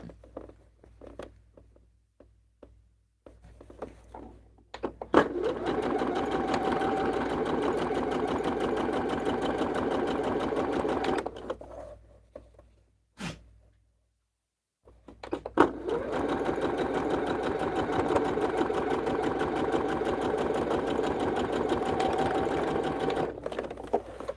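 A sewing machine stitches quilt squares onto a fabric strip in two long, steady runs of rapid, even whirring, separated by a brief pause, close and alone.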